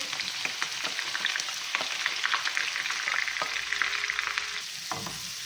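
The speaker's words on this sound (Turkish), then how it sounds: "Soğanımı da iyice kavuracağım" Onions sizzle and crackle steadily in butter in a hot pan, a dense close frying hiss with occasional stirring clicks, no talking.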